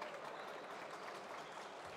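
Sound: crowd applauding a player at basketball game

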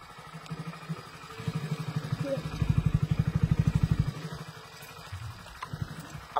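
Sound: Hero Splendor motorcycle engine after off-road ride

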